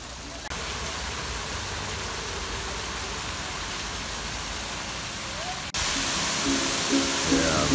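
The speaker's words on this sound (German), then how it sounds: "Wasserfall stürzt von da oben runter." The Waipahi waterfall in French Polynesia pours down in a steady, dense rushing roar that fills the whole stretch, jumping suddenly louder near the end as if from closer by.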